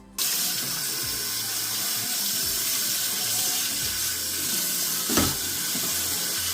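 A removable part of a Nespresso Gran Latissima coffee machine rinsed under a running kitchen tap, with a steady loud gush of water splashing into a sink and a brief clatter near the end.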